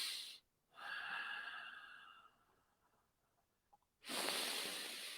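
Slow, deep yoga breaths during a seated twist: a long, airy inhale through the nose, a quiet pause, then a fuller exhale, all close to the microphone and without speech.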